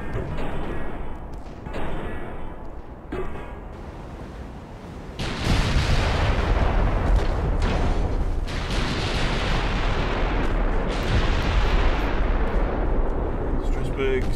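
Heavy battleship guns fire in the naval warfare game Ultimate Admiral Dreadnoughts, with the French battleship Strasbourg in action. A loud rumbling boom sets in midway and sustains with bursts over a dense background, and someone talks over it.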